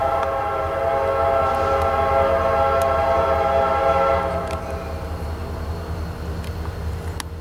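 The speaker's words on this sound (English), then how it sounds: "Yeah, they are definitely EMDs" CSX EMD diesel locomotives rumble past slowly with a long, loud horn blast for the first few seconds, then a steady heavy engine drone as they continue by.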